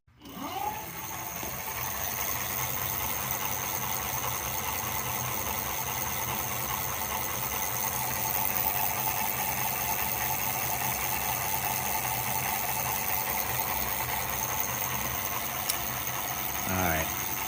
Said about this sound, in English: I'm going to give you a quick demonstration of the rim freewheeling